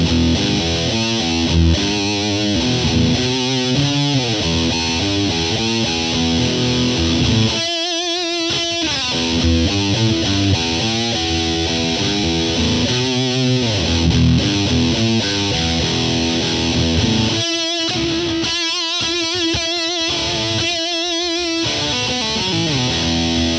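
Squier Jazzmaster electric guitar played through a Hotone Whip distortion pedal, heavily saturated and loud, with sustained chords and riffs broken by short muted stops, continuous throughout.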